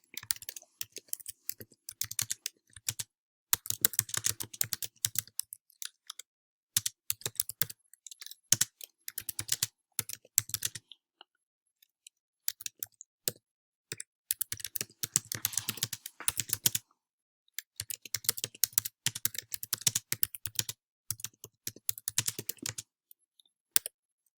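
Bursts of rapid typing on a computer keyboard while a document is written, with dense clicking runs separated by short pauses, close and fairly quiet with no talking.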